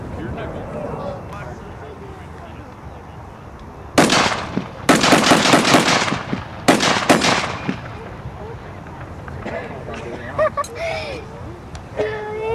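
Rapid bursts of blank-round gunfire from WWII US weapons crack out in two clusters, loud and close, with people talking faintly before and after the volleys.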